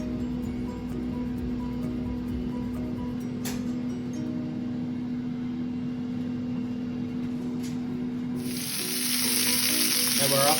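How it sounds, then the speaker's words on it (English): A steak sizzles steadily in a smoking-hot pan, a dense, even hiss heard close up and alone, growing louder near the end. "Cook up the steak."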